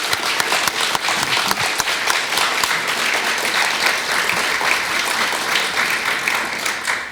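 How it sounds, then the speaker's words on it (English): Steady applause from an audience at a candidate forum, many hands clapping together at an even level for several seconds, with no voices over it. "please join me in a round of applause for thanking the candidates"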